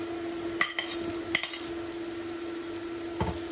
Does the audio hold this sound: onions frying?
yes